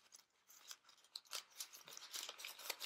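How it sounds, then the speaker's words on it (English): Piece of paper crinkled and handled close up in crisp, irregular rustling bursts, soft but distinct, with no voices. "Trying to uncrinkle this for you."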